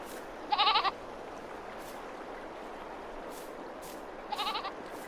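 Sheep or goat bleats from livestock in Farming Simulator 22, two short calls several seconds apart over a steady hiss of ambient background.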